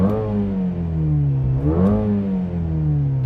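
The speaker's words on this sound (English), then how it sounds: "exhaust already deepens" A 2020 Mercedes CLA 35 AMG 4Matic in Sport Plus mode, its deep exhaust droning loud and close at a steady idle with a brief rev swelling midway and settling back.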